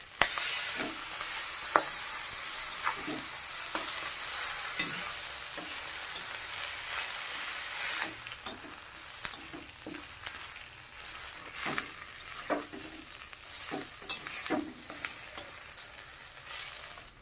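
Dry chillies, cumin, bay leaves and onion fry in hot oil for masoor dal, giving a steady, moderately loud sizzle with repeated sharp scrapes and clinks of a stirring spoon against the pan, with no voices.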